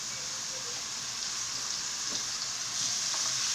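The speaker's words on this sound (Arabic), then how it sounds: "ندير شويه زيت، وندير هذيك الكورجات" Courgettes fry in oil in a pan, producing a constant soft crackling sizzle with occasional small pops, close up and without voices.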